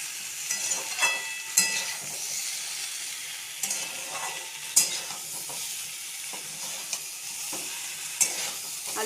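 Potatoes for a vegetarian aloo dum frying and sizzling in a pan, with steady crackle broken by repeated scraping stirs of a spatula, close and fairly loud, no talk.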